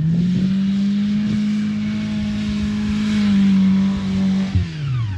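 A car engine drones steadily at a high pitch while the car speeds in reverse and spins around, rising slightly then dropping near the end, loud and close with no talk.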